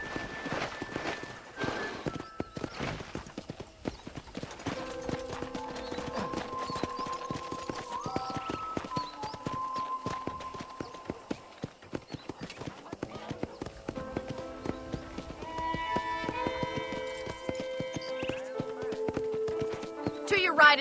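Horse hooves clip-clop at a steady walking pace in Red Dead Redemption, close and continuous, with spoken voices and background music over them.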